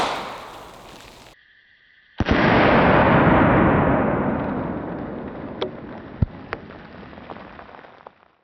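A single FP45 Liberator pistol shot at a 2-liter bottle target: an abrupt loud crack followed by a long rushing spray and hiss that fades, with a few faint pops afterward.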